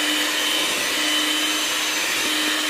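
An electric mixer beats carrot and dates cake batter with brown sugar, a steady loud whirring motor hum with a faint constant tone and no voices.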